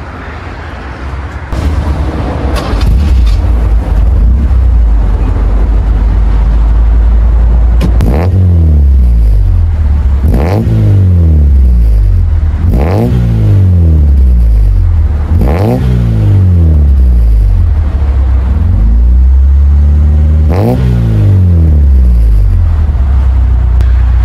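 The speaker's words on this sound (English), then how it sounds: "let's hear how this 90s Japanese car sounds." A 1990s Toyota Conquest with a 1.6 liter 16-valve engine revving repeatedly, loud and close, each rev rising sharply then falling back to a rumbling idle, about six throttle blips in steady succession.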